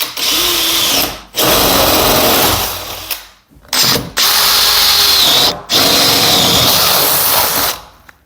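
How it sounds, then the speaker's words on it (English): A power drill bores through a wooden door for a door handle spindle hole, loud and close, running in several long bursts with brief pauses as the bit stops and restarts. "Drill through that side, drill through that side"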